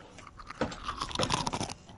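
Crunchy chewing right up against a microphone, a quick cluster of loud, close crackling bites and mouth noises over about a second.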